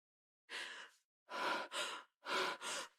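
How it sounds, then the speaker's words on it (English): A pregnant woman breathes rapidly and audibly in a quiet room: one long breath, then two quick paired rushes of air, then another pair, each sharp and close with silence between. "Your breathing's too rapid."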